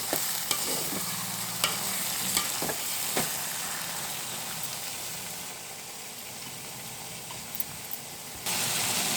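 A pan of tomato and broad bean (chikkudukaya) curry being stirred, with a steady close sizzle of frying under irregular scrapes and clinks of a spoon against the pan, running unbroken for several seconds with no talking.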